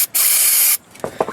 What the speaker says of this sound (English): spray a little brake clean on it